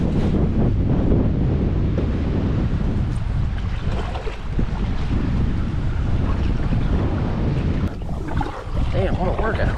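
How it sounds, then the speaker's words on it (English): Strong wind roars across open water around a bass fishing boat, buffeting the microphone with constant loud low rumbling and gusts throughout. "This wind's gonna blow me all the way back to shore."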